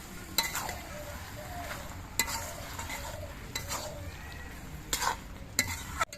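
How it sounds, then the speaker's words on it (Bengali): Ghee is stirred into cooked mixed vegetable labra curry in a pan. A spatula scrapes and clanks at a few spaced moments over a soft, steady sizzle. "এবার ঘিটা নেড়ে চেড়ে মিশিয়ে দিতে হবে"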